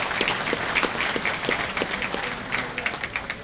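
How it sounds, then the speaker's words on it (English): A banquet audience claps steadily, a room full of hands giving a warm round of applause with a few voices mixed in. "let's give the Clarion staff a wonderful round of applause"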